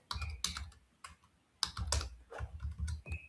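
Typing a short message on a computer keyboard: quick bursts of close key clicks in two clusters separated by a brief pause, fairly quiet with no voices.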